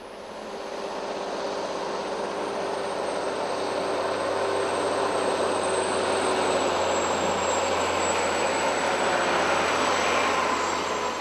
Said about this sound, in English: The trucks are fitted with 550 horsepower Cat engines, so going up is always easy.